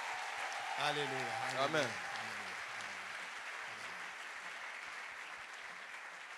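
A church congregation applauds and cheers in a broad, steady wash, while a voice calls out praise over the crowd near the start.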